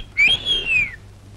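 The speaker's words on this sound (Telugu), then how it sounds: "మీకు విజిల్ వేయడం తెలుసా?" A person whistles one clear, loud note that rises and then slowly falls before it fades, heard alone in a quiet room.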